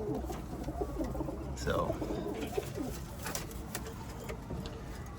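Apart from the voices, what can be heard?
cumulet pigeons cooing in their coop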